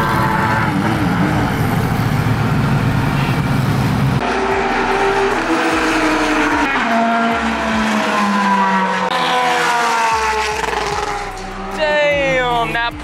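A Porsche race car roars past at Circuit of the Americas during the Hypercar Invitational, engine note loud and rising then shifting pitch as it passes, with other cars revving and a voice briefly audible toward the end.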